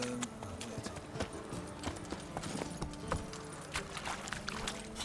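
Hooves of Roach, the horse in The Witcher 3: Wild Hunt, clip-clop steadily at a gallop, a close, even rhythm with game ambience and faint music underneath.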